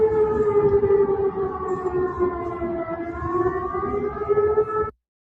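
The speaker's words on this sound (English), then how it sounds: "we're going to show you sirens as well" Air raid sirens wail steadily, a layered, slightly wavering tone from several sirens at once, loud and continuous before cutting off abruptly near the end, with no voices over them.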